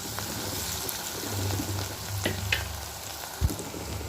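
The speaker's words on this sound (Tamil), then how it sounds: "வெங்காயம் நல்லா வதங்கணும், அப்போ தான் குழம்பு டேஸ்ட் கொடுக்கும்" Onions sautéing in a pan for a karunai kizhangu and dried fish curry, a dense close sizzle with occasional spatula scrapes and a low knock near the end, no talking.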